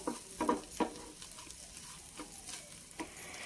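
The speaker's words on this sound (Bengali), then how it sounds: "এবার ম্যাগিটাকে দিয়ে আলু পেঁয়াজ আর ডিমের সাথে অল্প কিছুক্ষণ ভাজবো" Maggi noodles fry with potato, onion and egg in a pan, heard as quiet scraping stir strokes in an uneven rhythm over a faint sizzle.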